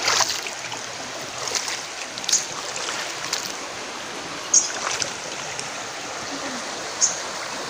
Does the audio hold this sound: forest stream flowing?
yes